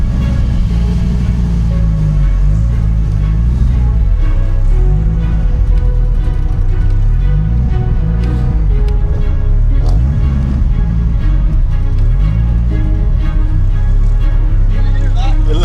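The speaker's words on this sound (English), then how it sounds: "Obviously, it's a V10. It's old school, but it's it just purrs." A deep Dodge Viper V10 engine rumbles steadily throughout, with low pulsing revs rising and falling under continuous noise, close and loud.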